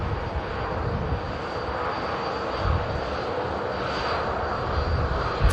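Ryanair jet taxiing at Manchester Airport, a constant broadband engine roar with a thin high whine, steady and moderately distant throughout with no voices.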